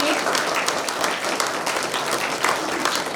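Audience applause at a Mahashivratri festival gathering in Indore, a steady dense wash of many hands clapping together throughout, welcoming performers to the stage.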